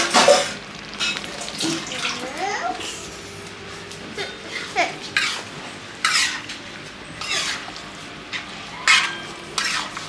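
Tawa chicken masala being stir-fried on a flat griddle, with a steady low sizzle broken by repeated scraping and stirring strokes of a spatula, close and moderately loud, no talking.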